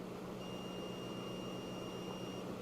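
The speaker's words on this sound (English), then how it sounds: "I see an overload alarm." A Bluetti AC300 power station with a B300 battery sounds a steady high-pitched overload alarm tone for about two seconds while powering space heaters, over a constant hum of fan noise.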